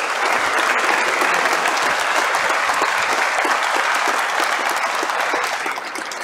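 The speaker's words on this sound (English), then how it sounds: "one more round of applause for our candidates tonight" An audience at a municipal election candidates' event claps loudly and steadily in a dense round of applause, tapering off slightly at the end.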